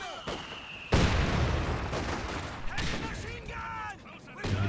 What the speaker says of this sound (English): Stun grenade. Followed by stun grenade.